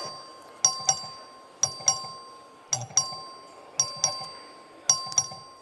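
In the Texas House chamber, the record-vote bell sounds in five evenly spaced double chimes, clear ringing tones that fade between strikes over faint background murmur.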